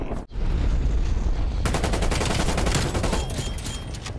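AK rifle fire in the video game Call of Duty Cold War, loud sustained bursts of rapid automatic shots merging into a dense roar, with a brief gap near the start and no talk.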